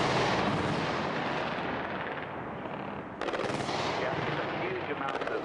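Anti-aircraft fire and bombardment over Baghdad roar as dense, continuous rattling bursts with deep rumbling booms. The sound is loud and unbroken, and a voice can be heard faintly underneath it.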